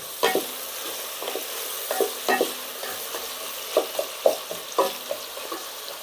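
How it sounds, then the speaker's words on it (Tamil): Onions sautéing in a pan until golden brown for chicken biryani, a steady close sizzle and fry with repeated stirring scrapes of a spoon through the pan. "வெங்காயம் நல்லா கோல்டன் ப்ரௌன் வர வரையும் வதக்கிக்கலாம்."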